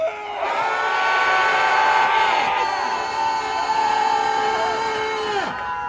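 A crowd at a political rally outside a party headquarters shouts together in a sustained, loud roar with whoops and screams. It holds steadily for about five seconds, then cuts off abruptly.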